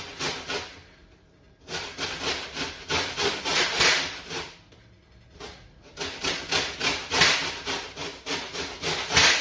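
Lemon skin grated in steady bursts of rhythmic rasping strokes, close and clear, pausing briefly between runs as the fruit is turned.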